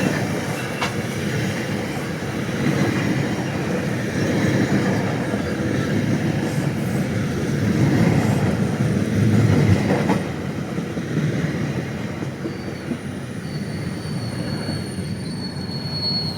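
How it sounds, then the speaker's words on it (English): A new GO Transit cab car, number 315, rolls into Eglinton GO station in a 12-car train, with a steady rumble of wagons and wheels squealing on the rails throughout, loud and close, with no talking. "So we have a new cab car arriving at Eglinton GO station."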